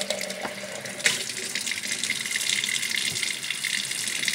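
Tap water runs steadily into a sink, a continuous close gushing hiss with a few small knocks and clatters near the start.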